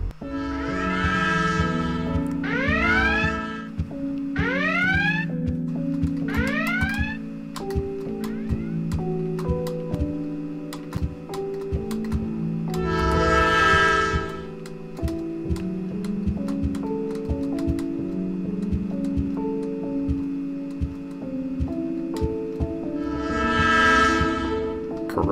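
A passing train in a video game sounds its horn in several loud, sliding blasts, followed by a long, steady rolling clatter of wagons with further horn bursts recurring.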